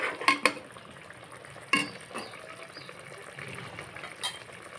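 Rohu fish curry simmering in a pan with cumin powder, stirred with a utensil: a few sharp scrapes and clinks against the pan over a low bubbling bed, no voices.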